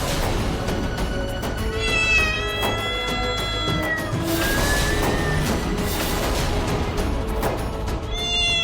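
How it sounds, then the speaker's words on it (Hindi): A cat meows repeatedly in drawn-out, wavering cries over a constant background hum, with several calls spread across the stretch. "ये बिल्ली कहाँ रो रही है?"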